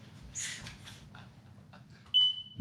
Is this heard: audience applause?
no